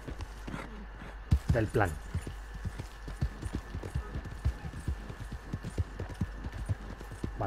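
A horse's hooves clip-clop in a steady, even rhythm on a path in the video game Red Dead Online, fairly quiet and continuous, while someone talks over the first moments.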